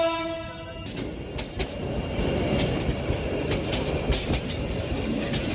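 Cartoon sound effect of a train running, a steady, continuous rolling rumble with rhythmic clatter that keeps up at even loudness from start to finish, heard alone without voices.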